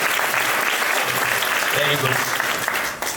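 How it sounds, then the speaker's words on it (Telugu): Group of children at a vacation Bible school event clapping loudly and steadily for a young winner named Joy, a dense continuous wash of applause with an adult voice speaking briefly over it. "జాయ్కి గట్టిగా క్లాప్ కొట్టండి"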